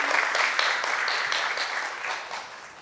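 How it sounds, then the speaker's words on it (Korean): An audience applauds a documentary producer with a short burst of dense clapping that slowly fades over a few seconds. "감사의 박수 한번 부탁드리겠습니다"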